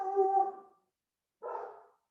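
A dog gives two short vocal bursts, a drawn-out howl-like bark followed by a briefer yelp after a pause, close and moderately loud with silence around them.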